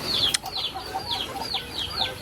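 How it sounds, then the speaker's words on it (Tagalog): Chicks kept by a family chirp noisily at close range, their repeated high descending peeps overlapping in a busy, continuous chorus with faint background noise. "Ang ingay ng mga sisiw po ni Papa."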